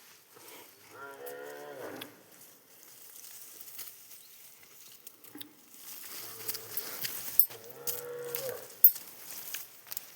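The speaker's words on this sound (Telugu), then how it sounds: "ఆవులు మొత్తుకుంటాను అన్నమాట." Cows on a hillside moo in two long, drawn-out calls separated by a quiet stretch, with soft rustling and scattered small noises between them.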